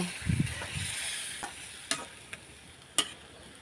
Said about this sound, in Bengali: এখন আমি এখানে দিয়ে দেব কেটে পরিষ্কার রাখা করা মাংসটা মাংসটা মশলার সাথে ভালোভাবে মিক্সড করে নেব